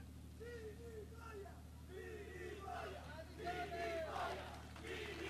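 Crowd at an outdoor political party festival in Italy whistling and booing, a sustained babble of jeers with rising shrill whistles, loudest toward the end, under a speaker's amplified voice.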